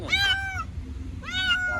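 A stray cat trapped down a well gives two drawn-out, plaintive meows about a second apart, close and clear over a low background rumble.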